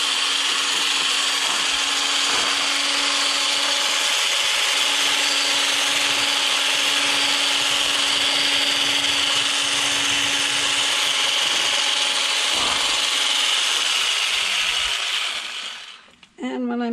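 A drink is whisked with a handheld frother into a foam, giving a steady, loud whirring buzz that runs continuously before cutting off abruptly near the end.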